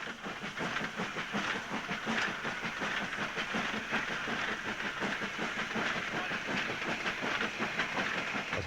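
An LMS 8F steam locomotive working a train south on the Somerset & Dorset line toward Shepton Montague, with a fast, regular chuffing beat, rail clatter and hiss running steadily and close throughout.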